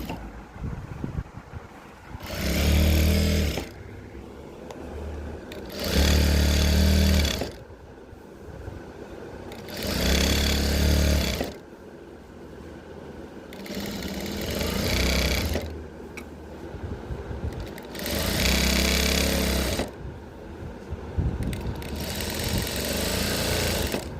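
Sewing machine stitching a folded-over pant waistband to make an elastic casing, running in loud steady bursts of a few seconds each, separated by quieter pauses, close and with no talking.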